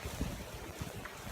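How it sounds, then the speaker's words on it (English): Cold wind blows by a lake during Winter Storm Stella, a brief, steady roar of gusts buffeting close by with no voices. "it's very windy here, very cold,"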